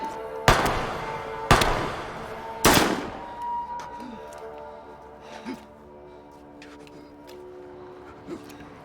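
Three loud, sharp gunshots ring out about a second apart in a hitman film scene, each trailing off in a short echo, followed by quieter scattered thuds and faint voices.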